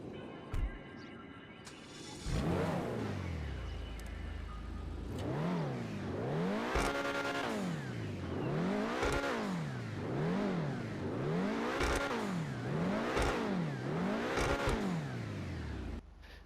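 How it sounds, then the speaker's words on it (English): An Obey 10F (Audi R8-style) sports car engine revs repeatedly in GTA Online, each throttle blip rising and falling in a steady sweeping rhythm. "Now let's take a listen to that engine"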